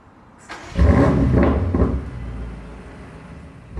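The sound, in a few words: BMW M5 Competition starting up, sports exhaust bark and pop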